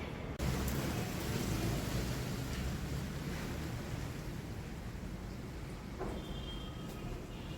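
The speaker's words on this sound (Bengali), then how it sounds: "প্রচণ্ড হারে বাতাস হচ্ছে" Strong wind roars steadily and close against the microphone as it sways coconut trees, a broad rushing blast with no voices, gusting faintly toward the end.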